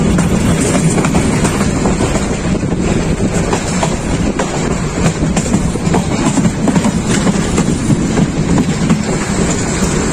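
The Intercity Chattala Express of Bangladesh Railway runs on the Dhaka–Chittagong line, heard from aboard as a loud continuous rumble with rhythmic clickety-clack of wheels over rail joints throughout.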